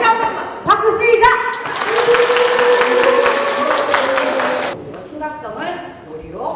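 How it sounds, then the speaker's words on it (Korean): About seventy elementary school children at an environmental education event break into a burst of applause amid excited voices and chatter, the clapping swelling for a few seconds and then fading into talk. "다시 한 번만 박수 시작!"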